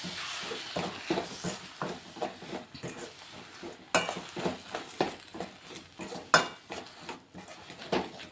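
Repeated scraping and clinking as gongura leaves with salt are stirred in a pot, a steady uneven rhythm of spoon strokes against metal, close and clear, with no talking.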